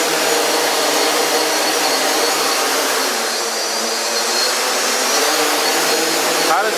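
A CarbonCore Y6 hexacopter drone hovers inside a garage, its rotors making a loud, steady broadband whoosh with a faint underlying whine, unbroken from start to end.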